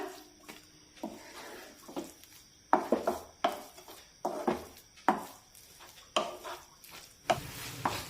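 A thick apple and jaggery laddu mixture is stirred in a pan, heard as quiet rhythmic scraping and soft knocks of a spoon against the pan, each stroke rising and fading at an even pace, close and low in level.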